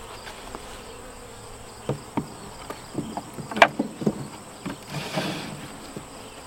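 Honeybees buzz softly around an open hive body, a low, continuous drone with scattered faint bumps and knocks as the hive is handled, and no talk.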